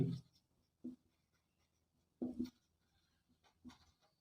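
Strokes of writing a geometry proof on a board come as a few short, quiet scratchy bursts, separated by pauses of silence.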